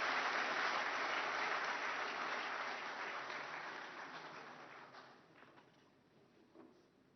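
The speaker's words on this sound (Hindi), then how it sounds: "उनके जोश और जज्बे के लिए एक बार जोरदार तालियां" A large audience applauds at an award ceremony in Delhi, sustained dense clapping that gradually thins and fades out over several seconds.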